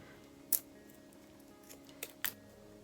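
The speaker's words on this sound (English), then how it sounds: "I need another stick, so I just get a spatula like this and I cut it kind of in half" A wooden wax spatula stick being cut in half with scissors, giving several sharp, quiet snips and cracks spread apart over a faint background hum.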